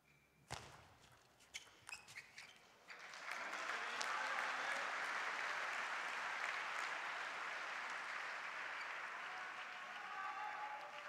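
Home crowd applause at a table tennis final in the Polish Open, scattered sharp claps and ball-like knocks at first, then swelling into sustained, dense clapping that holds steady to the end.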